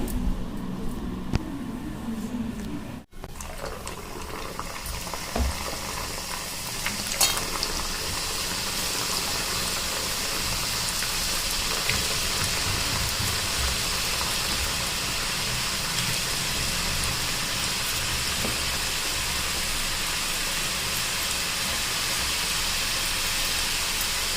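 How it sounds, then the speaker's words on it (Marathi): Salted shankarpali, a Diwali snack of dough pieces, frying in hot oil, giving a steady dense sizzle and bubbling that runs close and unbroken throughout with no talk. "आता आपण हे तळून घेऊया"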